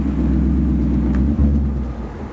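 A Ford Mustang Bullitt V8 rumbles steadily and close, a deep, loud engine drone with a brief low surge near the middle before easing slightly.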